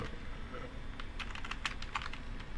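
Quick bursts of keystrokes on a computer keyboard as a terminal command is entered on a Raspberry Pi, soft and close, in a few short runs with brief pauses.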